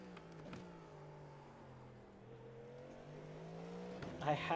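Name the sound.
voice imitating a Ferrari petrol engine revving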